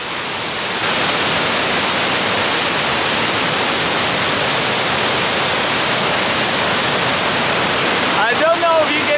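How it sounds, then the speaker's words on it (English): Ristafallet waterfall in Sweden, about 40 meters high, roars as a dense, steady broadband rush that stays loud and constant throughout, with a brief voice at the very end. "Ristafallet waterfall, 40 meters high, one of the highest waterfalls in Sweden. You can already hear it behind me"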